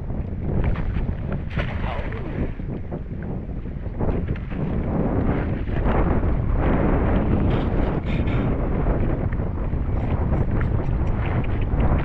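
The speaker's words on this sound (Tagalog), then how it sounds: "May na yung hangin." Steady, roaring wind buffets the microphone throughout, with low rumbling gusts and what may be boat or water noise underneath.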